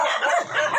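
Angry dogs in Bicol give a short, loud, harsh burst of barking and yelping, close by and over in under a second.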